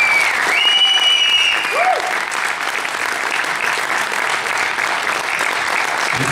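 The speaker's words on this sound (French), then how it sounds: "On peut les applaudir bien fort" Loud, sustained applause from an esports crowd at the Gears of War Judgement Cup 2013 final, greeting the winning team with steady dense clapping and a faint whistle or cheer near the start.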